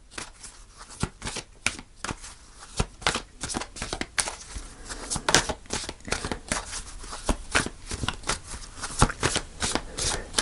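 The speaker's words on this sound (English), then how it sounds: "So I'm going to pull a final card." Tarot cards shuffled by hand before a final card is pulled, making rapid, crisp riffling bursts in an irregular rhythm, close and fairly loud, with no talking.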